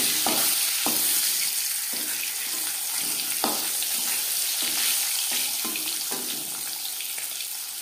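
Marinated fish sizzles in hot refined oil in a kadai, a steady crackling hiss broken by regular clicks of stirring or turning, close and alone.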